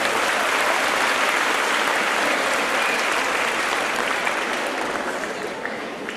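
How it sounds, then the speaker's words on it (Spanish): Audience at the 2016 opening event of the Familias en Acción program applauds steadily and loudly, a dense sustained clatter of many hands that tapers slightly toward the end, with no voices over it. "un aplauso para ustedes mismos"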